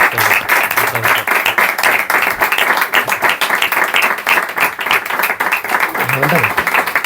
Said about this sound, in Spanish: yo pido un pequeño aplauso, o gran aplauso para...